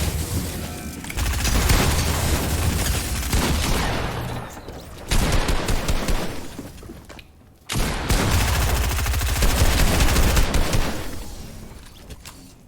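Rapid bursts of video game gunfire, loud and dense, crackle in several runs with short pauses between them, mixed with heavy booms.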